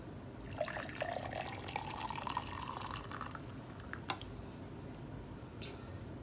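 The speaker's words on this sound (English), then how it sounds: "let's go ahead and do a pour." Pulpy raspberry lemonade pours steadily into a cup with a rising gurgle for a few seconds, then a few light drips and splashes follow.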